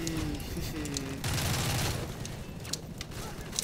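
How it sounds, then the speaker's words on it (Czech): Gunfire in the video game Modern Warfare 3, a dense stream of shots and muffled booms running throughout, with someone talking over part of it. "Něco po mně střílí"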